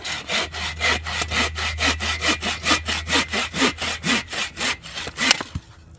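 A hand saw cuts through a piece of wood at a winter bushcraft camp, with a steady run of about fifteen rhythmic back-and-forth strokes, close and clear, ending in a brief scrape as the cut finishes.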